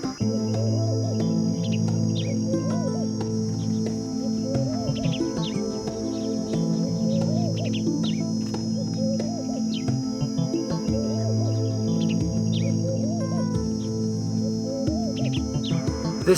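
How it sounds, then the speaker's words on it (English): Several birds call and chirp repeatedly in the Kalahari desert, with insects buzzing steadily beneath and musical tones running through the whole stretch. "I don't know the names of these 2 birds"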